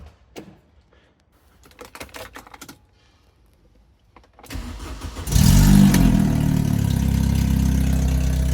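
A neglected Vauxhall Calibra clatters through a few seconds of mechanical clicks and rattles, then its engine cranks and fires, settling into a loud, steady idle close by.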